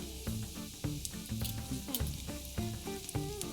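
Tofu hamantashen triangles frying in an oiled cast iron pan, a steady close sizzle with crackling pops and light clinks of a utensil, no talk.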